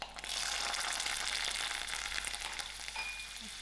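Margarine melting into hot oil for a three-dhal curry made with canned lentils, giving a loud, steady close-up sizzle and frying crackle that holds throughout without any talking.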